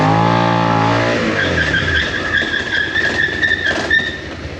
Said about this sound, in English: ABS is working, but you can also consistently hear that it is skidding alongside the ABS.